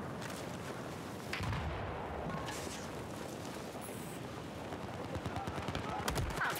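A suppressed MK11 rifle in Battlefield 4 fires a series of muffled shots amid ongoing battle noise, with a player talking quietly underneath.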